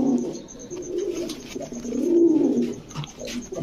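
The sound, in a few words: Modena pigeon cooing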